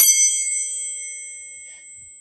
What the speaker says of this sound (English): the tuning fork is actually vibrating to create that sound